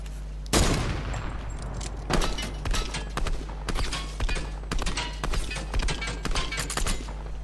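Gunfire in the Fortnite video game, a sharp opening shot followed by a run of scattered, irregular cracks and bursts, fairly loud and close, with no talk over it.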